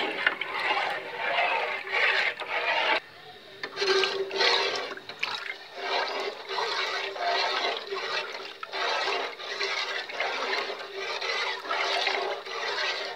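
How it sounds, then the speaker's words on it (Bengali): Milk being stirred slowly in a pot on the stove: steady, close, rhythmic liquid swishes and sloshing that repeat about once per second, with no talking. "এখন দুধটাকে আস্তে আস্তে নাড়তে থাকবো যাতে নিচে লেগে না যায়"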